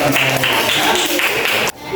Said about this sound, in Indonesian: Lagi tepuk tangan untuk Kansa yang telah menjawab